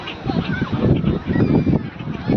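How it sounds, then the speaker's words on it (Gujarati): A flock of ducks call near and loud, with overlapping honking quacks in a busy, continuous chorus. "જોરદાર બતક પણ આવી રહ્યા છે."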